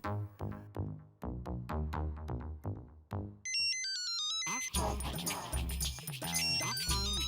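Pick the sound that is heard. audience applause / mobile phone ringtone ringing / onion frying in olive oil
mobile phone ringtone ringing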